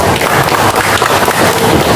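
A crowd at a Pemuda Batak Bersatu coordination meeting applauds: dense, loud, continuous clapping that fills the whole moment without pause.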